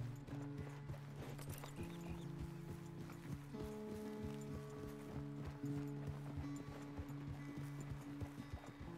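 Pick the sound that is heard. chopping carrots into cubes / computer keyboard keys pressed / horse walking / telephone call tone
horse walking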